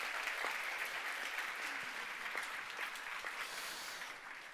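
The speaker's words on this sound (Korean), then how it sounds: "박수 한번 했으면" Steady audience applause at a church family summer retreat, a dense even patter of many hands continuing throughout at moderate distance, fading slightly toward the end.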